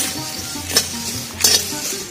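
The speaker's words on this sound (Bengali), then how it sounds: "এবার এই মশলাগুলো সব আমি কড়াইয়ের মধ্যে ঢেলে দিচ্ছি।" Whole spices dry-roasting lightly in a wok for mango pickle, with two short bursts of stirring scrape and rattle over a low, steady background hum; no talking.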